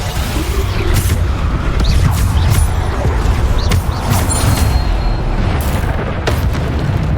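Bombarda explosion spells cast in a Hogwarts Legacy battle, a loud continuous barrage of booms and bursts with sharp impacts layered over heavy low rumble.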